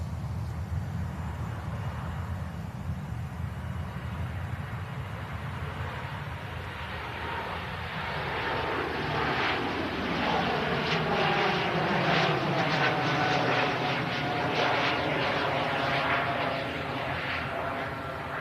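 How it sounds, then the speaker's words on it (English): A Helvetic Embraer E195-E2 jet airliner departs for Zurich, its engine roar building from a distant rumble into a loud, sustained broadband rush that holds steady as it climbs away. "Helvetic, Embraer, E195, E2. Ooh, heading off to Zurich."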